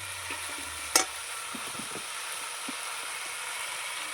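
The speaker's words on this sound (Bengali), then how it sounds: "এবার আমি ভালো করে কষে নেব" Chana dal with ash gourd, salt and spices being stir-fried in a pan for a vegetarian curry, a steady close sizzle with one sharp clank of the utensil against the pan near the start.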